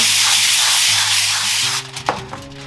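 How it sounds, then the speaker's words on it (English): Cooking spray hisses onto aluminum foil in a close, sustained aerosol burst for about two seconds, then stops, followed by a few light rustling handling sounds. "I am actually gonna spray the foil before I put it down"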